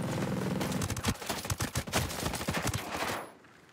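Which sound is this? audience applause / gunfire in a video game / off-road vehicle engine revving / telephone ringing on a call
gunfire in a video game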